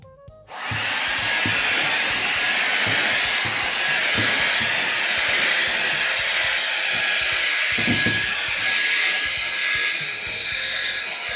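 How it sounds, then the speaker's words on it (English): A vacuum cleaner sucks up loose yarn fibres from a freshly carved tufted rug, switching on with a sharp start and then droning loudly and steadily up close, with faint bumps and shifts as it moves. "I hate the sound of a vacuum."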